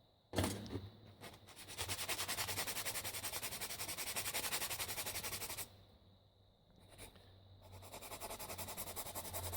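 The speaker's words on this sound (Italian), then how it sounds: "anche un po' di lima non guasta, essendo piatto va più che bene" Hand file rubbing across a flat plastic model kit part in long, steady close-up strokes, a dry rasping scrape that pauses briefly midway and then resumes.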